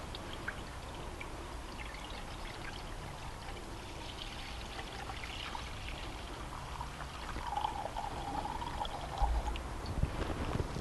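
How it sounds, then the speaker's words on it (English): Water poured from a container into a Dutch oven holding stuffed artichokes, a steady soft splashing stream that grows slightly louder toward the end, close and without talk. "I'm going to add some water to it."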